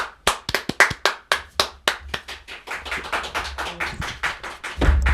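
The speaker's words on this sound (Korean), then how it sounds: "큰 박수 한번 드릴까요?" A small audience at an interview event claps, with sharp, distinct hand claps that start sparse and quickly run into a fast steady patter, close and fairly loud, for about five seconds.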